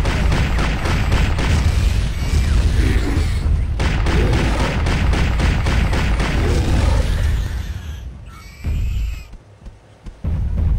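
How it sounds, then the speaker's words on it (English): In the Nintendo 64 shooter Turok 2: Seeds of Evil, a machine gun fires loud, rapid bursts of booming shots in a near-continuous stream before cutting off abruptly near the end, followed by a few scattered softer sounds. "Let's shoot our machine gun real quick."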